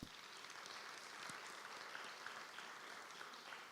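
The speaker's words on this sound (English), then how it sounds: "Let's give them a big round of applause." Audience at a justice convening gives a round of applause, a faint, distant, even rush of many clapping hands lasting throughout.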